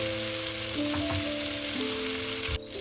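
Malai tangdi chicken drumsticks fry on a hot tawa, giving off a steady, close hiss of sizzling oil that stays even throughout, with a faint low hum beneath, before it drops off abruptly near the end.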